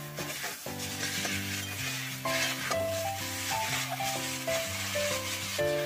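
Potatoes and vegetables fry in a pan for a fish curry, a soft continuous sizzle with occasional stirring, partly buried under prominent melodic background music throughout.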